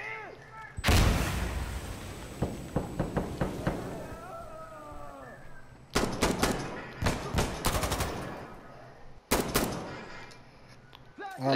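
Grenade blasts and heavy gunfire in the tactical shooter Insurgency Sandstorm during a hardcore checkpoint match on the Citadel map, loud repeated booming bursts with rattling shots and brief gaps.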